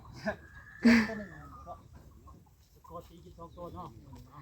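Backyard chickens on a rural Thai farm cluck in a few short bursts near the start, with livestock sounds and people talking nearby through the rest.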